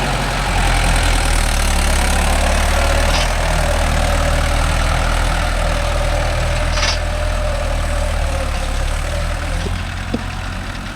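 A Mahindra tractor engine runs at about 1200 rpm, a loud, close, steady diesel drone with a deep throb that holds unchanged throughout, with no voices over it.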